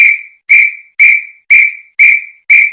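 A whistle gives six sharp, loud, evenly spaced blasts, each a shrill tone that tails off, and no one speaks.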